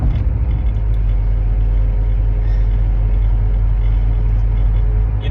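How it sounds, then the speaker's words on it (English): Constant low rumbling road noise from inside a moving vehicle, a steady droning hum with no voices. "Sorry for the noise, I'm on the freeway heading to work"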